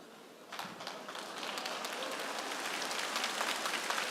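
Stand-up comedy audience starting to applaud, scattered claps quickly swelling into a fuller, steady patter of many hands from the crowd, moderately loud and without speech.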